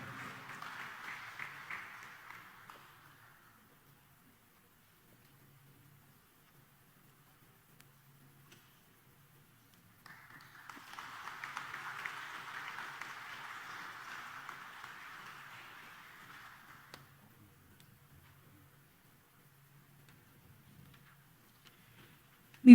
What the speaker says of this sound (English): Ladies and gentlemen, a round of applause and congratulations